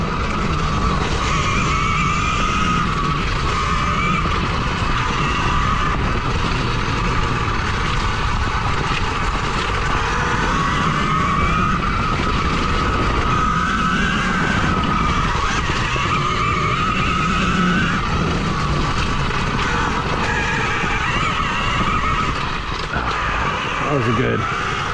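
A 2022 KTM Freeride E-XC electric dirt bike ridden at steady throttle outdoors in winter, a constant loud motor whine and rushing wind with tire and trail noise, continuous throughout, with a voice talking over it.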